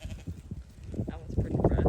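Sheep bleat on a ranch, a short wavering cry building in loudness near the end, heard close with a person talking nearby.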